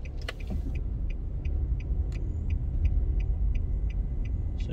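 A car rumbles steadily at low speed through a U-turn on Paddington Terrace, past guarded embassy residences, with regular faint high clicks, likely a turn signal, ticking over the engine noise.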